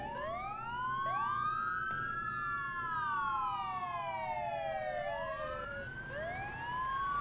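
Several overlapping police sirens in the video game Arma 3, wailing and rising and falling in long sweeping glides, sounding somewhat distant and layered against a low hum.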